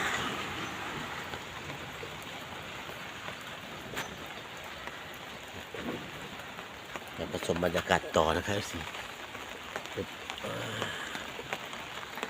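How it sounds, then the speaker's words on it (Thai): Heavy morning rain pours steadily in a dense, hissing wash that runs through the whole stretch, with someone talking over it and a brief louder rumble partway through. "ฝนตกเนืองนอง"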